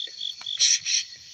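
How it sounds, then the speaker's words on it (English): Crickets and katydids trill steadily at night, a loud continuous buzzing chorus close by, with a brief murmur of a voice underneath. "the loudest one is a cricket."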